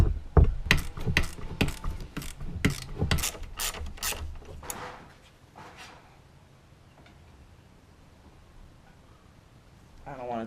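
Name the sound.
ratchet undoing Volvo V60 Polestar strut bar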